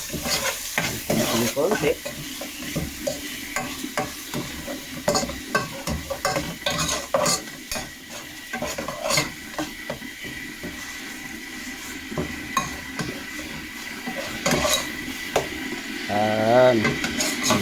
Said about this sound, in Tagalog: So ito na guys, gigisayin na natin